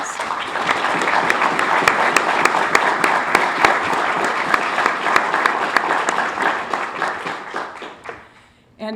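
Audience at a university football press conference giving sustained applause, many hands clapping steadily and close for about eight seconds before stopping abruptly.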